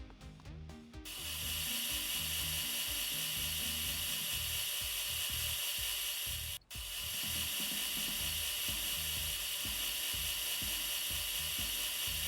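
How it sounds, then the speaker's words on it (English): An angle grinder fitted with a buffing pad polishing a rally car part in a home garage, a steady high whine with rubbing friction that runs for most of the clip, briefly dipping once midway, close and loud. "And the grinder hopefully still has the buffing pad on it"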